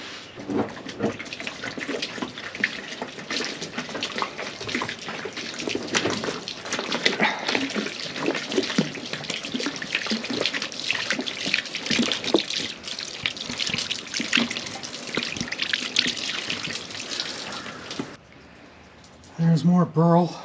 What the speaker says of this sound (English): Oh, we're going to throw some water on that.